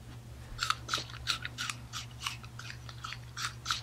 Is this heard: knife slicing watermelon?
yes